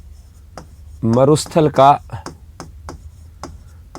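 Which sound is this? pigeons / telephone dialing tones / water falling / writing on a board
writing on a board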